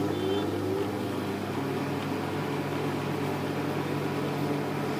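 A microwave oven cooking idli hums with a steady, even drone throughout, close and continuous, with no talking over it.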